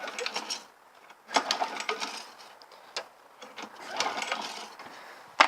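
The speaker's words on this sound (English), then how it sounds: "Pull this, get hold of the camera, get hold of the pull cord." A Sovereign lawn mower's starter cord is worked in a few rough bursts of rasping, whirring recoil-starter noise with brief pauses between pulls, close and moderately quiet, without the engine catching and with no talking.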